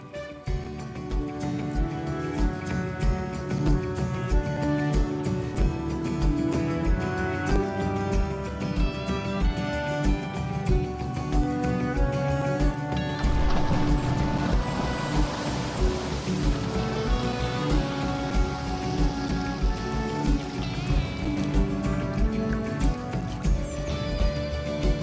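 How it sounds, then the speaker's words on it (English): Heavy tropical downpour gives a dense, steady hiss of rain battering surfaces, under a background of layered music that carries on throughout. "a tropical downpour still means a heavy battering"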